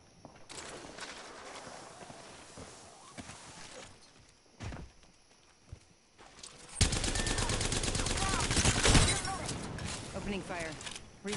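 Gunfire in the battle royale game Apex Legends: scattered shots, then a loud sustained burst of rapid automatic fire in the second half, with voices talking over the action.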